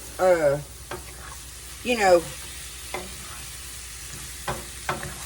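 Tomato sauce sweetened with sugar and sharpened with vinegar is stirred in a pan for spaghetti squash parm, giving intermittent scraping and sloshing strokes over a low sizzle, with a few brief voiced sounds between them.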